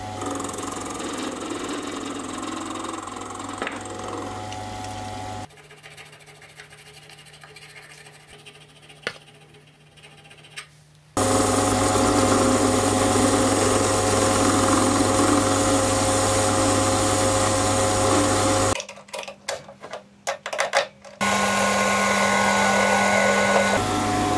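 Lathe cleaning up the ends of a gear blank with a left-hand tool, a loud steady machine whine broken by a quieter stretch with scraping and a short pause, then resuming.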